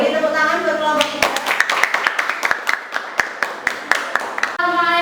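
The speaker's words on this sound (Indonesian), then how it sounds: "beri tepuk tangan buat kelompok kita" A group of people claps steadily for their classmates in a classroom, a run of sharp, distinct hand claps lasting a few seconds. Voices can be heard before and after.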